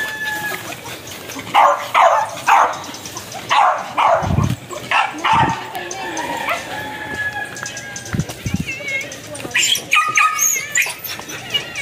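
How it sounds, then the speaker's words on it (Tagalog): Several dogs barking at a small farm, with repeated bursts of barks and yips throughout, fairly close. Chickens cluck, and other farm sounds mix in. "Maraming aso."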